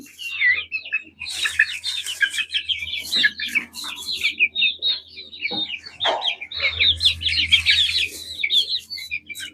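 A flock of around thirty chickens kept in a coop clucks and chirps almost without pause, overlapping calls rising and falling close by, with a low steady hum underneath and no talking.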